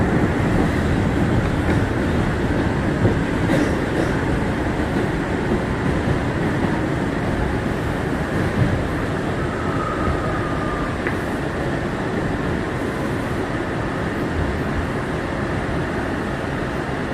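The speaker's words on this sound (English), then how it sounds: "This is a Manhattan-bound J local train." A Bombardier R179 J local subway train on the NYC Subway rolls along at steady speed, with a continuous loud rumble and rail roar throughout and no talk.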